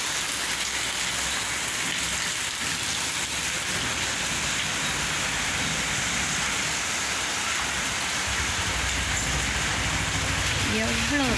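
Rain falls steadily, a continuous even hiss of drops on surfaces. It holds at a moderate level for the whole stretch, with a faint low rumble underneath.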